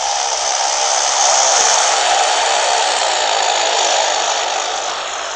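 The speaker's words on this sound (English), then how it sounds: "I love flybys." Cessna 208 aircraft flying past in the Infinite Flight video game, a steady loud engine drone with a hissing broadband roar that swells slightly mid-pass and then eases.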